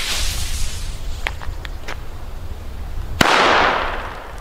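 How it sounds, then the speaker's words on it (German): Several small crackles lead into a single sharp bang from a WECO cannon cracker outdoors, followed by a fading hiss of smoke and debris, with no voices. "Ja, also ist halt wirklich nicht so der Knall-Kanonenschlag."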